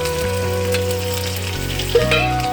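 Onion frying in a tilted wok, a loud dense sizzle that holds steady throughout, with a steady low hum beneath and one brief clink near the end.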